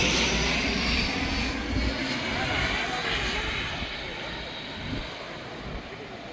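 An airplane passes overhead near the sea, heard as a broad, steady engine roar that fills the clip and slowly fades slightly, with no talk over it.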